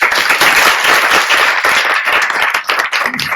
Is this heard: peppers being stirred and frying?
no